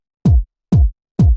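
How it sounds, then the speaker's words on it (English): Three fat, punchy deep house kick drums hit alone at an even pace, each with a deep, booming low body that quickly decays. "So this is just like a standard, very fat, punchy, sort of deeper kick."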